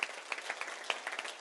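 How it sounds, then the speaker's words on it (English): A round of applause from wedding guests during the reception speeches, a dense patter of many hands clapping at once with a few sharper claps standing out, fairly close and steady throughout. "let's give a round of applause for Noah"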